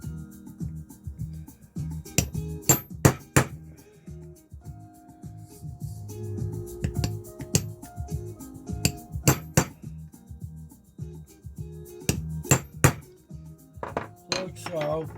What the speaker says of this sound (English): on the rivet you can just hit it with a centre punch and try and make the rivet tighter